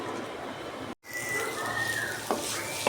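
Fresh green peas tipped into a pan of cooking potato and cauliflower sabzi, a soft steady sizzle with a brief cut and a small clatter near the end.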